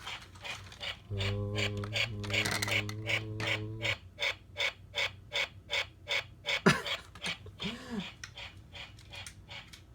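Electronic chatter from a battery-powered Power Rangers Megazord robot toy, a steady warbling tone that cuts out, then regular rhythmic clicking pulses as its battery dies.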